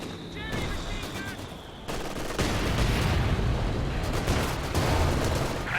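Machine gun strafe in Company of Heroes 2, dense rapid bursts of gunfire building into a loud sustained rattle, with a faint voice in the mix.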